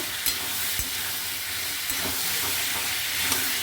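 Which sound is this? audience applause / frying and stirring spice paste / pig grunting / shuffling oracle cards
frying and stirring spice paste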